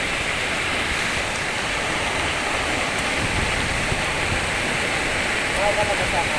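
Overflowing river floodwater in Gen Trias City, Cavite, surges steadily in a loud, broad roar, like waves churning close by, with no clear voices over it.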